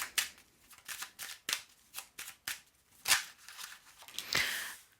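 Tarot cards are drawn and handled, giving a run of quick, crisp snaps and slides up close, irregular in spacing, with a longer rustle near the end and no voices.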